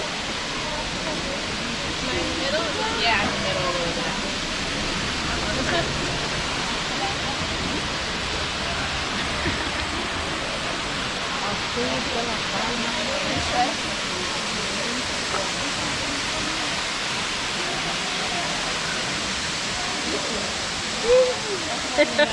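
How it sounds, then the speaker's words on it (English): A waterfall in Tijuca National Park, Rio de Janeiro, makes a steady broadband rush, continuous and fairly close, while people talk intermittently over it. "There is a waterfall"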